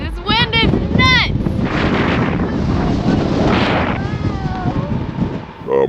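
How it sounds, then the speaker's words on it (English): Strong wind roars steadily across the microphone while biking across America, a loud continuous buffeting rush with brief higher whistling tones and voices speaking over it. "This wind is nuts!"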